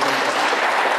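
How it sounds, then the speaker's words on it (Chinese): Audience applause at a Chinese-language scripture study class on the I Ching, steady dense clapping filling the whole moment without a break, loud and close. "所以呢，就用各位来给自己的掌声"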